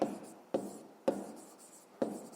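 A pen writing on paper during a maths exercise gives quiet scratchy strokes, with four sharp taps at regular intervals and soft rubbing between them.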